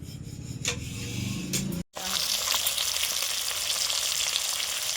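Pangas fish pieces with cauliflower and potato frying in a black iron wok: a dense, steady sizzle and crackle, close and loud, with a few scraping stirs early on and a brief cut near the two-second mark.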